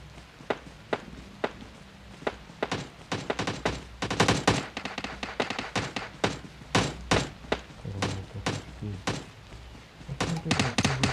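Battle royale gunfire crackles in irregular bursts of sharp shots, some rapid automatic strings and some single cracks, moderately close, with thumping movement sounds between volleys.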